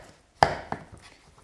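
A knife chops pumpkin into small pieces on a board: one sharp, close chop, then a lighter second cut, with quiet gaps around them.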